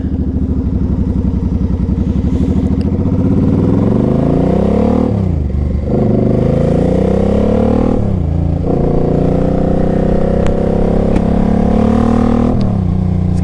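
A 2006 Suzuki Boulevard C50T cruiser rides by with aftermarket exhaust pipes, its loud, close engine note climbing through the revs and dipping briefly at each gear change.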